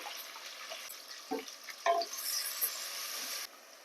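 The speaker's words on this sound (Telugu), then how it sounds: "కట్ చేసుకున్న ఉల్లిపాయ ముక్కలు పచ్చిమిర్చి మొక్కలు వేసుకొని ఫ్రై చేసుకోవాలి" Onions and green chillies frying in oil with curry leaves in a pan, a soft steady sizzle with a few brief stirring scrapes and clatters, quiet and close, no voices.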